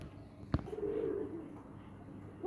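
A pigeon gives a low, soft coo after a sharp tap, the purring call lasting about a second, quiet and close in a loft.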